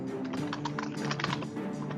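Rapid, clattering keystrokes on a loud computer keyboard, close up and busy, with a dense run of sharp clicks over a faint background murmur.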